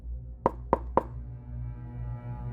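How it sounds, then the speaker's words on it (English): Three sharp knocks on a motel room door, evenly spaced and close, followed by a low hum of room tone. "But at 2 a.m., I was woken by knocking"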